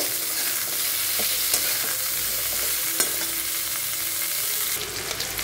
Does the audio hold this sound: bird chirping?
no